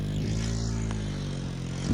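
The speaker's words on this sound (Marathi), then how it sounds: "इथं गाडी अडकायला लागली" A motorcycle bogged down in soft sand on Diveagar beach, its engine running steadily and fairly loud up close, with a short rising rev at the very end.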